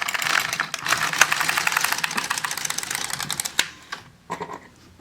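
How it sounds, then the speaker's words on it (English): An LK150 knitting machine carriage is run across the needle bed with worsted weight yarn, giving a dense, rapid clatter of needles that runs steadily for several seconds, then slows into a few separate clicks, close and loud with no talk. "Now we just thread the yarn and knit across."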